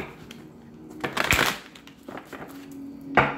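Tarot cards are shuffled by hand in a few bursts of riffling and crunching, with a louder flurry in the middle and a brief final snap, close up and with no voice over them.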